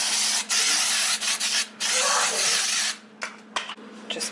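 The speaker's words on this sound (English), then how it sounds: "I am gonna spray with some of this non-stick baking spray" Bursts of hissing spray from an aerosol can of non-stick baking spray coating a glass pan, close by, with short pauses between them.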